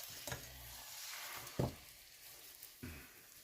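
Eggs frying in a pan give a soft, steady sizzle, with a few sharper scrapes and taps of a utensil against the pan, quiet and close without any talking.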